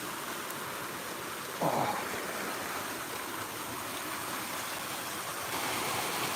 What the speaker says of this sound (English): Love this little waterfall.